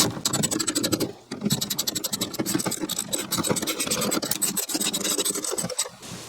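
Ratchet wrench tightening the door handle actuator bolts inside the rear door of a Lexus GX460, giving a close, continuous raspy clicking that runs nearly unbroken, with short pauses and no voices.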